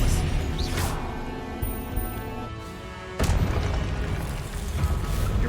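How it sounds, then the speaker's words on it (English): The Expelliarmus spell fires in Hogwarts Legacy, a loud booming magical blast that decays into a whooshing tail, followed about three seconds later by a second heavy impact burst. "Expelliarmus."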